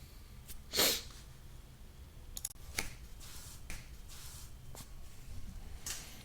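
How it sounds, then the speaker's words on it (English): A single loud, sharp sneeze near the start, followed by quieter sniffs, breaths and small clicks, with no talking. "That sneeze was pretty brutal."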